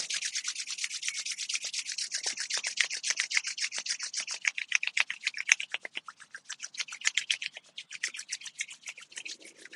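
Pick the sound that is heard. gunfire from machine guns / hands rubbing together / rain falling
hands rubbing together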